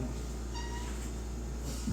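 A pet cat named Maya meows indoors, a few soft, thin calls rising faintly over a steady low background hum, with no one talking.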